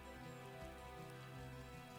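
Steady, soft rain falling in the cozy farming game Wylde Flowers, a continuous even hiss with a faint musical hum beneath it.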